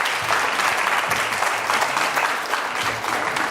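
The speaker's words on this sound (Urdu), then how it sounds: "تالیاں جی آپ کی." A studio audience at a Ramadan television show claps steadily, dense sustained applause from many hands, loud and close, continuing through the whole stretch without pause.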